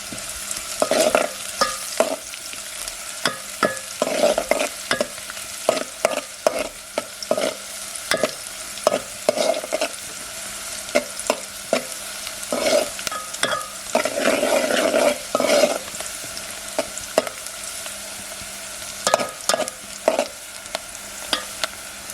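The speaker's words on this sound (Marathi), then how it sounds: "कांदा देखील आपण फोडणीला थोडासाच घेतो" Onion fries in oil for tempering in chicken cooked on a wood-fired stove. A constant close sizzle runs under frequent scraping stir strokes that keep an irregular rhythm for over twenty seconds.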